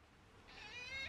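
A small white kitten gives a single soft, drawn-out meow, faint and distant indoors while heavy rain falls outside, with no talking over it.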